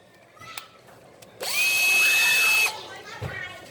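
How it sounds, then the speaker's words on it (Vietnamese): Electric drill briefly run up to full speed, a loud steady high whine lasting about a second before spinning down, with faint handling noises around it. "Rồi máy khoan, lấy máy khoan nha, ví dụ lên cái máy khoan này."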